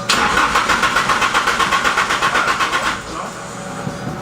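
A tuned car engine cranks in a loud, rapid rhythmic churn for about three seconds, then catches and settles into a steadier, quieter idle, heard up close.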